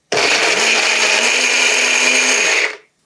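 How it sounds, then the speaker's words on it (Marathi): A kitchen mixer grinder whirs loudly and steadily for nearly three seconds as it blends a single tomato into puree, with no talking, then winds down. "हे फक्त मिक्सरला डुरकन फिरवून घेऊयात"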